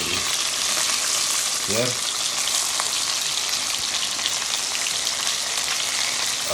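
Chicken sizzling and crackling in a hot pan, a loud continuous frying hiss throughout, with a brief spoken word partway in.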